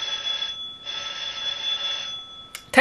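A telephone rings in two long electronic bursts with a short gap between, followed by a brief click and a louder clatter at the end.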